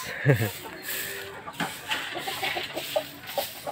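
Aseel roosters cluck in short, scattered bursts close by, mixed with farmyard noise while someone talks over them.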